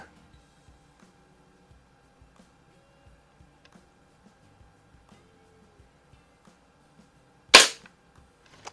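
A suppressed Crosman air rifle fires once at bullseye targets in a garage, making a single sharp, close shot after a long quiet stretch with faint ticking.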